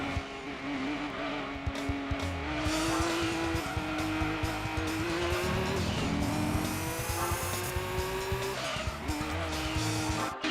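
A Toyota Supra races in Gran Turismo 2, its engine droning and shifting pitch steadily while tires squeal and skid through corners, loud and continuous with no one speaking.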